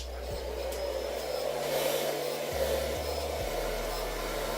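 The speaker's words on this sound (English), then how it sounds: "you can just use the blow dryer" A blow dryer runs continuously while drying a wig, giving a steady, close whirring hum with a constant airy rush and a few faint low knocks.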